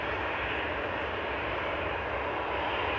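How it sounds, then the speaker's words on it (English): A Kuwait Airways airliner from Kuwait City coming over the runway threshold at Manchester Airport, heard as a steady, broad engine roar, distant but continuous and unbroken, with no talk. "We've got Kuwait Airways just coming over the threshold as well"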